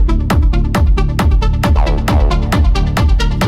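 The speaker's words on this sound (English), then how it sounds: "a great growling techno stab that sounds like this" Loud, repeated techno stabs built in Ableton with a wavetable synth hit in a fast, driving rhythm. Each stab has a growling, gritty attack and is layered over a pounding low kick.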